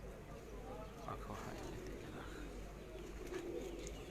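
Lakha and Badshah breed pigeons coo softly at close range, their low calls blending with steady background noise while people talk nearby.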